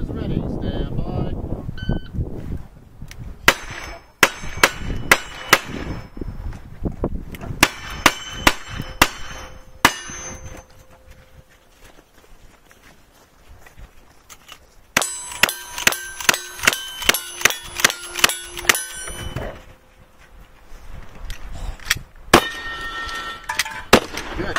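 Carbine shots ring out on steel targets at a shooting range, sharp cracks each followed by a bright metallic ping, coming singly at first and then in a fast string, with people talking between the shots.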